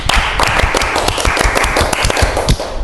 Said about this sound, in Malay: Cuba bagi satu tepukan yang gemuruh.